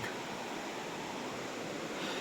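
River water rushes steadily at a crossing point in a rural mountain area, a dense, continuous broadband roar with no breaks or voices.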